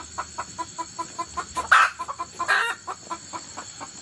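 Frightened chickens clucking after a cobra attacked the flock, a rapid rhythmic series of close clucks with two louder alarmed squawks in the middle.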